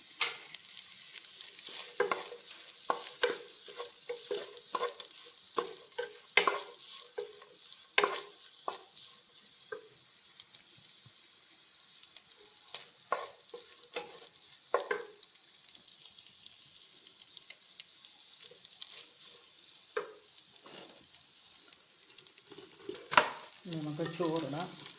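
Carrots and beans stir-fry with chicken in a pan for fried rice, making a soft, low sizzle punctuated by irregular spatula clacks and scrapes, fairly quiet and close.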